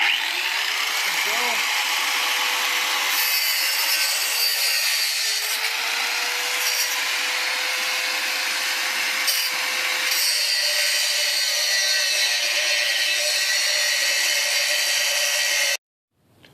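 A power tool cuts through a steel crash bar on a Jeep JK during a front skid plate and bumper install, a sustained bright grinding whine running steadily for about sixteen seconds before stopping abruptly.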